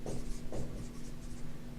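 Marker or chalk scratching across a board while a beam deflection problem is worked out, in short uneven strokes close by with a steady low hum underneath and no talk.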